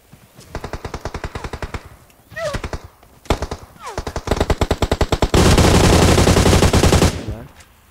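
PUBG Mobile gunfire, loud rapid automatic bursts repeating in quick rhythmic volleys, ending in a long dense stretch of continuous fire before fading.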